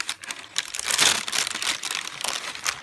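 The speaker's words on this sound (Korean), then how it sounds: "비닐봉지가 필요해서" A thin plastic bag crinkles and rustles continuously as it is folded small, with sharp close crackles at an irregular pace.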